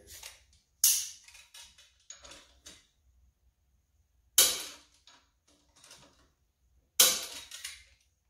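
A torque wrench clicking while torquing connecting rod bolts on a 5.3 LS engine, sharp close clicks spaced out over several seconds with faint ratcheting between them, no talking.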